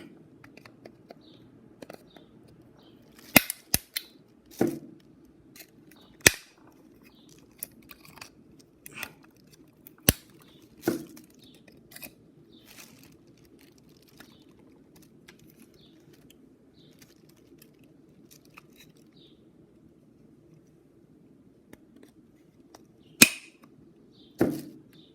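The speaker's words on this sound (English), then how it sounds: "breaking bits off with the pliers to look like it was already being cut up" Pliers snap and break small bits off a hand-made model scrap engine, giving sparse, sharp clicks and cracks spaced irregularly over a faint steady background hum.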